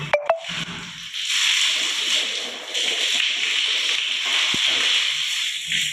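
Water splashing and sloshing while teeth are cleaned by hand and the mouth is rinsed during wudu ablution, opening with a few sharp splashes and then a steady running wash; no one speaks.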